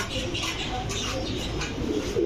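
Pigeons coo softly and repeatedly in a shop selling fancy breeds such as black gorra, beauty, kaldom and giribaj, a low murmuring chorus that continues throughout.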